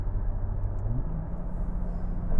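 A Porsche 911 Turbo engine rumbles low from inside the car after being switched into sport mode, with a brief rise in pitch near the start and no talking.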